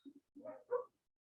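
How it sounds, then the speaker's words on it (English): Dogs barking outside in a few short, separate bursts, moderately close and alone with no talk over them. "I hear the dogs barking."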